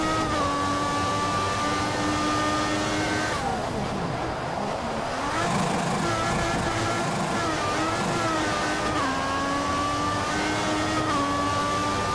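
A Formula 1 car in F1 2014 on the Canadian circuit, its high-pitched engine wailing and climbing through the gears down a long straight, with brief dips at each upshift, loud and steady throughout.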